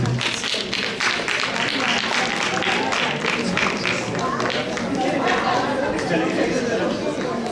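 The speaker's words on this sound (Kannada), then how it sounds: "ಚಪ್ಪಾಳೆ ತಟ್ಟಲಿಕ್ಕೆ." An audience claps at a welcome ceremony with a president's speech: dense, sustained applause mixed with crowd chatter, and a voice speaking over it.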